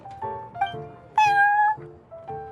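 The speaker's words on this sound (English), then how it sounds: "I thought having a cat take care of our new customers would be quite a nice touch" Prince, a cat in Genshin Impact, meows several times in a row, clear and close, with one longer, louder, higher call in the middle.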